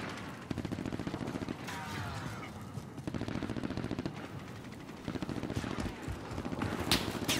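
Automatic gunfire in Call of Duty: Modern Warfare, with dense, continuous bursts of machine-gun fire and explosions filling the whole stretch at steady loudness.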